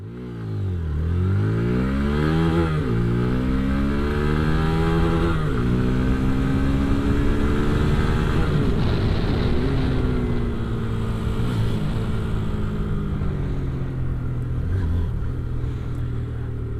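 A 2025 Hero Xtreme 160R 4V motorcycle pulls away and accelerates through several gear changes, its engine note repeatedly climbing and dropping, loud and steady with no talk.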